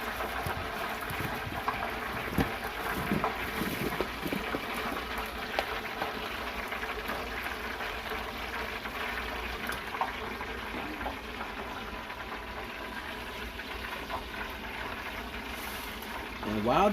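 French fries sizzle and crackle in hot oil, a steady bubbling hiss heard at moderate level with scattered pops throughout.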